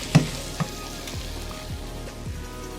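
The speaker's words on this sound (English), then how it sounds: "here comes your beef broth" Beef broth poured into hot shepherd's pie filling in a pan, a steady soft sizzle with a couple of brief clatters near the start, close and moderately quiet.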